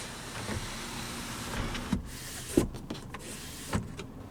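Power sunroof on a 2025 Mazda CX-5 opening with one-touch automatic control, a steady faint electric motor whir inside the cabin with a few soft clicks and thumps as the panel moves.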